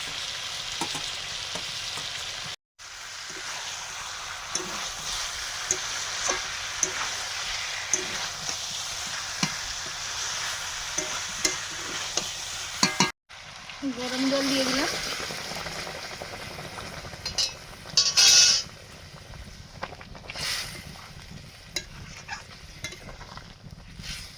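Sizzling, bubbling stir-fry of malabar spinach stalks with chicken in a pan, with intermittent stirring scrapes, broken by brief cuts and a louder clatter partway through.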